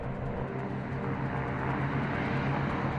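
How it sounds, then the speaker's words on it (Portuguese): B-29 bombers taking off over the desert carrying dummy pumpkin bombs, a steady loud droning engine roar with a low hum running through it, constant for the whole stretch. "os B-29s decolam com bombas falsas chamadas de abóboras para serem lançadas no deserto"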